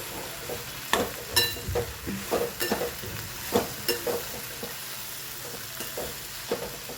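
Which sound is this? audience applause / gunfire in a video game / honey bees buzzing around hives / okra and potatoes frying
okra and potatoes frying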